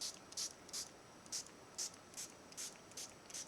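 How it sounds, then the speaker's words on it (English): A spray bottle mists water onto watercolour paints in about nine short, sharp hissing bursts, evenly spaced and close, with no talking. "I'm just going to spray my watercolour paints"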